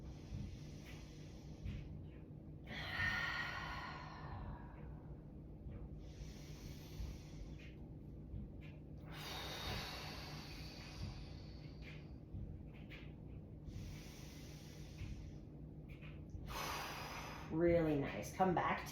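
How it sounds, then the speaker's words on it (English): Deep breathing during a yoga flow, several slow, airy inhales and long exhales, faint and close with quiet pauses between breaths, a soft voice near the end. "Let's take 3 more big breaths."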